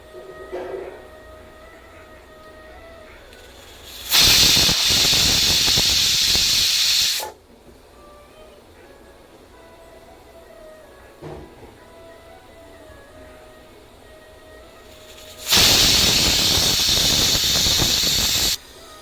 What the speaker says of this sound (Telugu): ఇప్పుడు ఒక 10 నిమిషాలు ఆవిరిపోవాలి